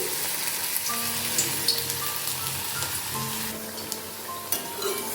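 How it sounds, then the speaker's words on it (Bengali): Cabbage pakoras crackle and sizzle steadily in hot refined oil in a pan, a close, continuous frying hiss with small pops and no voices. "এবার পকোড়া বা বড়ার শেপ নিয়ে তেলের মধ্যে একটা করে ছেড়ে দিচ্ছি"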